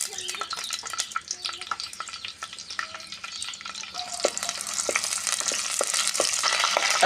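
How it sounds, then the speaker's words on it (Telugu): Green chillies fry in hot oil with a continuous crackling sizzle that grows denser and louder, dotted with sharp pops and occasional utensil clicks against the pan. "ముందుగా పచ్చిమిర్చి వేయాలి. నూనె కాగిపోయింది."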